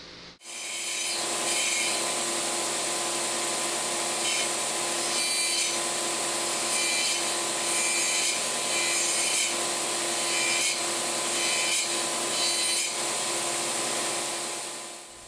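A saw cuts steadily through two-inch-thick wooden spokes for a 1700s French-style cannon wheel, a continuous rasping stroke sound that is close, moderately loud and uninterrupted for about fifteen seconds, with no talking.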